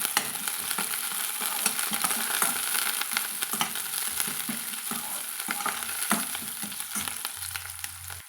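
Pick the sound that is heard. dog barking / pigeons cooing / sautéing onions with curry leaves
sautéing onions with curry leaves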